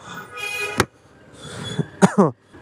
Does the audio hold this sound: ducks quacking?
no